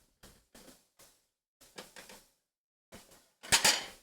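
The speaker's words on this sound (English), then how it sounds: "I'm going to get a plate out" A plate being taken out in a home kitchen while cooking strip loin steak, heard as a series of sharp ceramic clinks and knocks, several scattered taps, then a louder rattle of dishes at the end.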